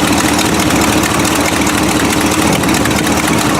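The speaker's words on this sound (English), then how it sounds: "you can definitely hear that's exhaust gas" A Buick engine idling with a leaking exhaust manifold gasket, giving a loud, steady rumble with a ticking, puffing exhaust note throughout. No one speaks.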